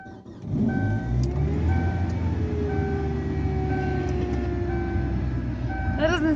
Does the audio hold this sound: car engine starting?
yes